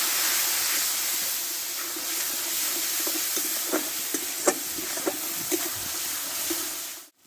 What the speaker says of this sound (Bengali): দেখো মশলাটা ভালোভাবে কষে নিয়েছি তেলটা ছেড়ে দিচ্ছে